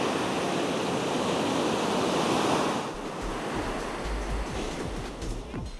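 Ocean surf rolls onto a wide beach on Costa Rica's Nicoya Peninsula, a steady broadband wash that swells and then eases, with gusty wind rumble buffeting the microphone in the second half.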